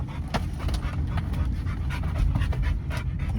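Dogs panting rapidly and rhythmically after running, close and fairly loud, with no talking.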